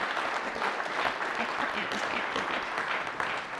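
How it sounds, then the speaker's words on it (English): A dense round of audience applause fills a hall at a student summit, steady and close, with many hands clapping continuously and no break for the full few seconds. "So round of applause to you."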